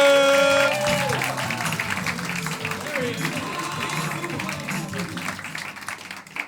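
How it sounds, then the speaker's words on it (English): Steady applause from an audience at Club Haug, Rotterdam, starting loud and continuing through, with crowd noise and music-like tones underneath. "Start clapping it up as you have been all night"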